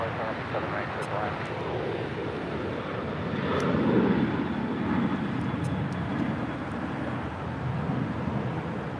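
A Southwest Airlines Boeing 737-800 in Freedom One livery departs LAX bound for Houston Hobby, a broad steady jet roar that swells slightly midway, with faint radio-style voices over it.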